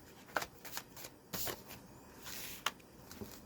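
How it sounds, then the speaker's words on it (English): Tarot cards are shuffled by hand in a quiet room, with soft riffling rustles and several sharp card snaps spread irregularly across a few seconds. "Give me 5 shuffles."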